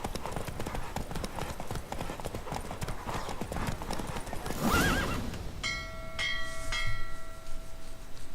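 Horse galloping in a race in the video game Witcher 3: rapid, close hoofbeats pound for several seconds, then a whinny, followed by bright bell-like chime tones as the gallop fades.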